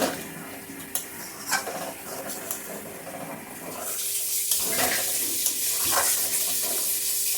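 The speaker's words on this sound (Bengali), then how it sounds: "কাজু বাদাম দিলে নাড়াচাড়ার মধ্যে রাখতে হয়, না হলে কড়াইয়ের গায়ে কিন্তু লেগে যায়।" Cashew nuts are stirred in a wok with a metal spatula, giving scattered scraping clicks and taps, then a steadier hissing fry noise takes over in the second half, without speech.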